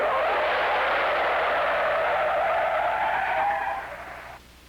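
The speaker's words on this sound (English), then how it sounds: "When the flag goes down, we'll tromp on our brakes hard for a real panic stop." Several 1959 cars, among them a Buick, an Olds and a Pontiac, brake hard in a panic stop, their tires skidding in a loud sustained screech that holds steady and then tapers off near the end.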